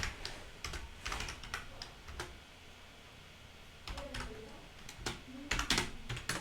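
Keys clatter on a computer keyboard as Python code is typed, quiet irregular bursts of tapping with a pause in the middle, no voice.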